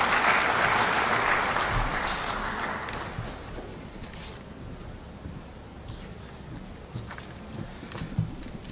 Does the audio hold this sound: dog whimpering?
no